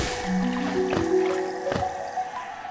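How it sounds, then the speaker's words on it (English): Bubbly, squishy popping sounds from bubbles in the watery Fog Canyon area of the video game Hollow Knight, with a few sharp blips over soft tonal game music. "They're bubbles!"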